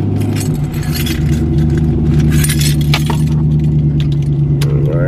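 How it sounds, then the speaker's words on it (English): Keys jangling and clinking close up while a Pontiac G8 is started, a metallic rattle over a steady low idle hum. "So we're gonna start the car."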